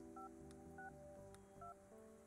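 Soft electronic phone-keypad tones beep in short paired bursts over a low musical background as telephone lines are installed in the building-management game Project Highrise.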